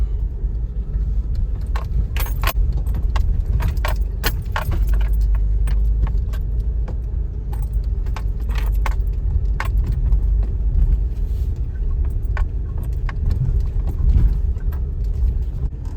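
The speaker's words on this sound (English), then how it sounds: "this is the steepest hill around here, so I guess let's see if it'll go up this in two-wheel drive" A 4x4 SUV climbing a steep hill in two-wheel drive, a deep continuous engine rumble with loose keys jangling and rattling in bursts throughout, close and loud, heard from inside with no talking.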